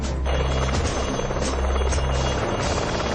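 A helicopter landing on a hill roars close by, its steady rotor thump and engine whine filling the air continuously without letting up.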